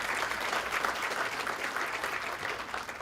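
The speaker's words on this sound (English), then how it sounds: "Let's give him a round of applause." An audience at a keynote talk breaks into sustained, even applause, a dense wash of many hands clapping that holds for the full few seconds.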